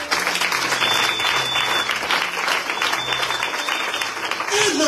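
A church congregation applauds steadily throughout, a dense, continuous wash of clapping with a few voices mixed in.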